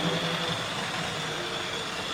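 A Wrenn model railway locomotive running on a loft layout gives a steady, even mechanical hum with a faint high whine, close by and alone, with no voices.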